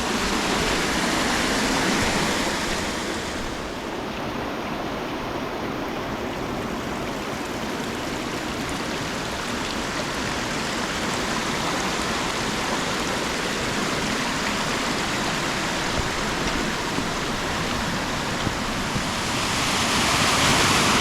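A waterfall at Pucks Glen rushes in a dense, continuous roar, loud and close throughout with no talking over it.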